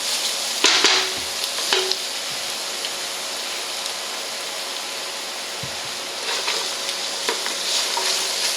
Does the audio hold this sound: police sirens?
no